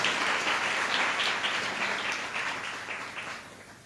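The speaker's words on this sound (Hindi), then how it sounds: "ताली बजा के प्रभु धन्यवाद दें" A church congregation claps together in praise during a worship service, a dense, steady wash of applause that slowly fades toward the end with no voices over it.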